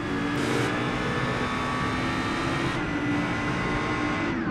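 A car engine in the racing video game Grid holds a steady, loud drone from start to finish, a continuous engine hum with faint tonal shifts and no talking.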